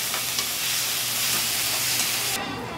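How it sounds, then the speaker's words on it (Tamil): Onions, green chilies and curry leaves fry in hot oil for mutton boti kothu with a loud, dense, continuous sizzle and hiss, heard close up with faint stirring underneath. "வெங்காயம் பச்சை மிளகாய் கருவேப்பிலைலாம் நான் எண்ணெயில் சேர்த்துட்றேன். பாருங்க இப்போ இதை நல்லா வதங்கட்டுங்க"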